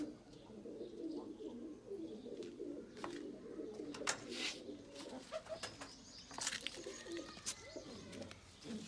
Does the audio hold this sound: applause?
no